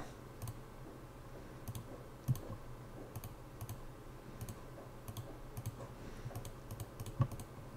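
Keyboard keys tapped to enter a password during a DVR factory reset, a sparse run of light, close clicks at uneven intervals over a quiet room hum, with no talking.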